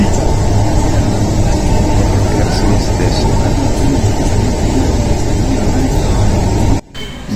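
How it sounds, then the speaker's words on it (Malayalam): Bangalore metro train arriving at Yeshwanthpur station, a loud continuous rumble and roar that fills the whole platform and breaks off abruptly near the end. A voice is faintly heard under the noise. "ട്രെയിൻ വരുന്നുണ്ടോ? ഇപ്പൊ എത്തും."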